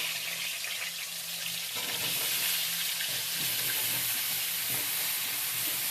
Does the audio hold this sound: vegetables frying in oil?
yes